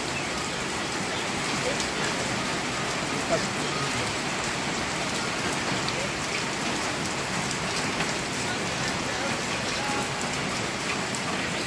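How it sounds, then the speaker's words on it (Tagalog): Steady rain falls throughout, a dense, even hiss of drops on surfaces at close range, with no breaks and no distinct voices. "inabot na tayong ulan"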